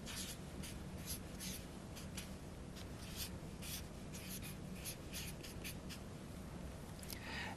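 Pen or pencil scratches steadily on paper while writing out maths working for a partial fractions problem, close and continuous with soft rhythmic strokes.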